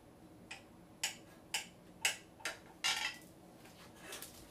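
A knife cutting a tray of fudgy brownies into bite-sized squares, with a series of soft, quick clicks and taps of the blade hitting the pan at a steady pace, quiet and close.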